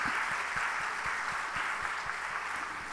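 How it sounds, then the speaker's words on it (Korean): A crowd of wedding guests at a church wedding service in Haeundae applauds steadily and loudly, a dense unbroken wash of clapping that holds for the whole moment. "큰 박수 부탁드립니다."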